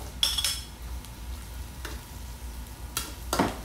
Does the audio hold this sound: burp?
no